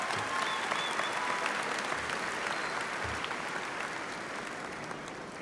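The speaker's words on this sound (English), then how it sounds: "give yourselves another well-deserved round of applause" Sustained applause from a crowd at the 2018 Molina High School graduation in Dallas, honoring the class of 2018: dense, steady clapping that fills the whole stretch at an even level, with a few faint cheers rising above it.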